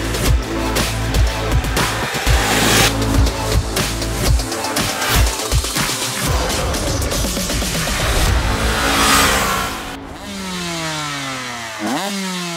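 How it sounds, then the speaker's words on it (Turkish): A Suzuki GSX-8S motorcycle with a new parallel-twin engine runs loud and close, its uneven, throbbing exhaust rising and falling through repeated revs, then ending on a sharp rev sweep near the end. "Yeni şasisi, yeni paralel tipi motoruyla bakalım Suzuki GSX 8S nasılmış."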